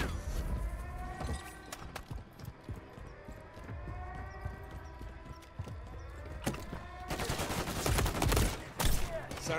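Gunfire in a Call of Duty MWIII campaign battle, with scattered sharp shots and bursts crackling amid steady clattering background noise, building into a denser, louder volley toward the end.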